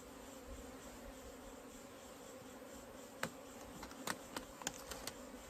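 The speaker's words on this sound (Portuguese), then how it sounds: "olha lá o tanto de abelha lá" A faint, steady insect drone hums throughout like bees buzzing, with a few sharp clicks and taps near the end.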